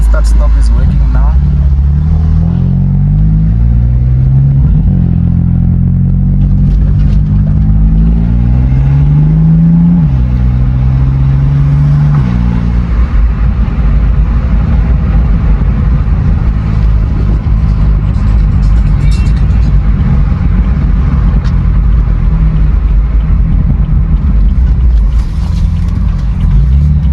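A BMW M4 with the S55 engine drives steadily, its low, loud drone rising and falling through gear and rev changes before settling into a constant rumble with road noise throughout.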